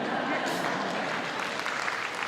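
An audience at Stockton's 2019 State of the City speech breaks into a dense wash of clapping that fills the hall evenly, with a voice heard amid it.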